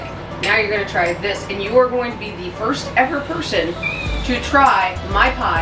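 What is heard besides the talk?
cat meowing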